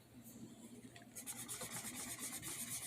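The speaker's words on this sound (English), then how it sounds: "So I'm going over with the blendy pen here." A blending pen rubs over a pencil sketch on paper, a faint, close, soft scratchy rubbing in short repeated strokes.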